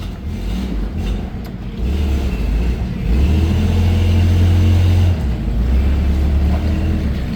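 A Ford 7.5L engine runs loud and close, a deep rumble that swells as it revs up midway, holds, then settles back to a steady idle.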